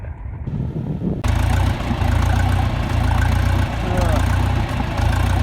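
A tractor engine idles loud and steady with a low, continuous rumble, held out in the open near cattle pasture, its tone shifting slightly as the throttle changes.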